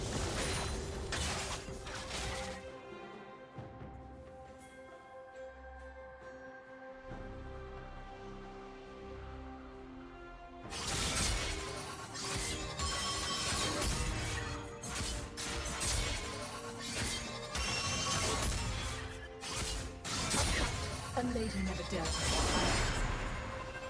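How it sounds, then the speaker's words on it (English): A turret crumbling in League of Legends, a loud crashing collapse with heavy impacts and debris after about eleven seconds, layered over game music and character voice lines. "Red team's turret has been destroyed"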